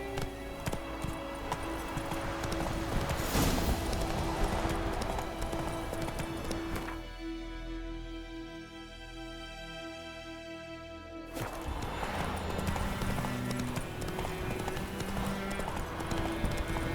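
Horse galloping in the video game The Witcher 3, a steady rapid clip-clop of hooves that drops away briefly mid-way before resuming, heard over game ambience with no talking.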